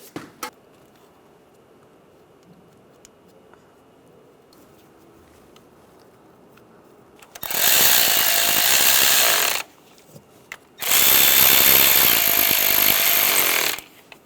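Two loud, sustained bursts of a power driver snugging down the screws that hold the wiring harness on a 1996-2002 Toyota 4Runner valve cover, each lasting a couple of seconds, separated by a brief pause after a quiet stretch.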